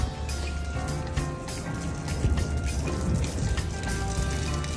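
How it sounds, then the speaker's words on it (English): Steady rain pattering on surfaces all around, a constant dense hiss with scattered drops, no voices. "Even if it is pouring the rain."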